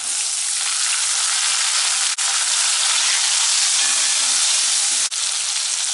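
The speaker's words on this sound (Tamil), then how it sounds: "வெங்காயம், பூண்டு ரெண்டுமே நல்லா வதங்கிடுச்சு. இப்போ தக்காளி சேர்த்துக்கலாம்." Two large tomatoes sauté in a pan over softened onion and garlic for a turkey berry curry, giving a loud, steady sizzle that runs unbroken for the whole stretch with no voices.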